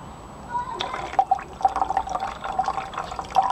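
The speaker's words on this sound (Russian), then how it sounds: "Добавляем соляной кислоты." Hydrochloric acid is poured for aqua regia over crushed ore samples, giving a faint liquid trickle with small splashes and drips across a few seconds, close and quiet.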